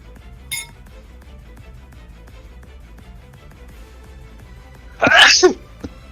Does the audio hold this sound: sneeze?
yes